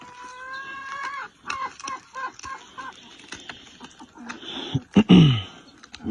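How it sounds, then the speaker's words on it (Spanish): Hungry hens on a ranch cluck and squawk close by in a busy, irregular flurry, with a few louder bursts of fowl calls near the end. "Vamos a comer a las gallinas, tienen hambre."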